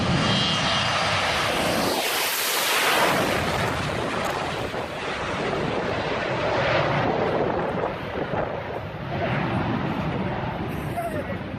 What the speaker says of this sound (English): The Aerosucher Boeing 727 took off from a short runway.